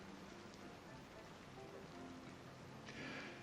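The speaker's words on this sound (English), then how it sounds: "Starting to rain." Steady, faint rain falling at night, a soft continuous hiss of drops with no other clear sounds.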